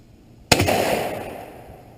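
A single sharp gunshot fired at a fridge cracks out loud and close, followed by a ringing, rattling decay that fades over about a second and a half.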